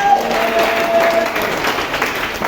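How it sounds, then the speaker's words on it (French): A church congregation applauding loudly during a French-language service, a dense, sustained wash of clapping from many hands throughout. "Acclame fortement la parole de l'Éternel avant de t'asseoir."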